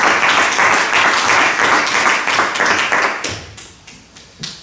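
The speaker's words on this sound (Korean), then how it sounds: "이 교재를 무상으로 섬기고 헌신하고 있는 우리 종봉 간사님께 박수 한번 해주시죠." A church congregation claps warmly, loud and dense at first, then thins into scattered individual claps that fade out in the last second.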